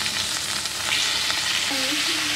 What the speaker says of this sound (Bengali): এইবার তেল গরম করে এক এক করে মাছগুলো ব্রাউন করে ভেজে নেব।